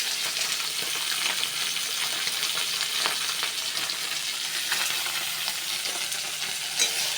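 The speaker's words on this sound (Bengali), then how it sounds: "মাছের সঙ্গে ভাজা হয়ে যাবে।" A fish head fries in hot oil with ginger added at the side, giving a steady, close, bright sizzle and crackle with occasional pops, no talking.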